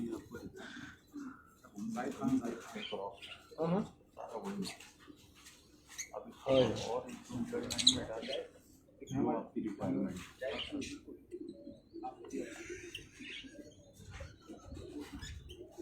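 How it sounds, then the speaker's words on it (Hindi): Pigeons coo softly in short bursts while someone talks over them almost the whole time, with a few brief flutters and rustles between his phrases. "ले जी ये कबूतर भी आ गए।"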